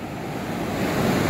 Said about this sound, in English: I like the waves.